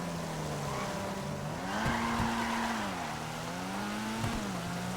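Vapid Uranus Lozspeed, a rear-wheel-drive car in a video game, corners fast on a rain-soaked road, its engine holding a steady droning note that rises and dips through the turn with a faint tire squeal, continuous and close.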